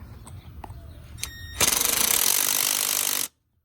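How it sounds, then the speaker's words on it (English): Impact wrench loosening a very tight Torx 30 bolt on the coolant T of a 2015 Porsche Macan S 3.0 V6. A few faint clicks come first, then a loud, close, rapid hammering burst of about two seconds that cuts off abruptly. "And my impact seems to be slacking in the torque department."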